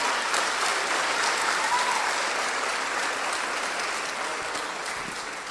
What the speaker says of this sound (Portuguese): Aplauda ao Senhor essa manhã.